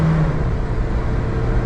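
A Daihatsu Rocky's engine hums steadily from inside the cabin at cruising speed, a loud, even drone mixed with road noise and no talking.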